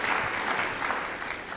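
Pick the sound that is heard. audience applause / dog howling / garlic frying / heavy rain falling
audience applause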